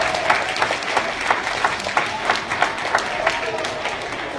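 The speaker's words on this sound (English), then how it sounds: "Let's worth a round of applause." Schoolchildren applaud together in a sustained, fairly loud round of clapping with faint crowd noise underneath and no clear speech.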